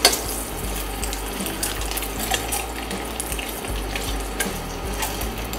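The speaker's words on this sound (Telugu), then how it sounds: "ఆయిల్లో కొంచెం మంచి కలర్ వచ్చేంత వరకు ఫ్రై చేసుకోవాలి" Eggs frying in turmeric-tinged oil in a pan, a steady close crackle and sizzle with small pops running evenly throughout, no voices.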